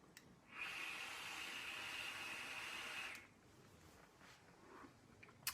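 A long, steady breathy hiss of vapour exhaled from an e-cigarette after drawing on a yogurt-flavoured e-liquid, lasting about two and a half seconds at close range before fading into quiet room tone.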